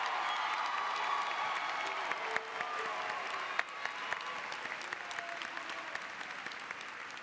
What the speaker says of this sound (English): let's give Kennesaw State University's most recent graduates another round of applause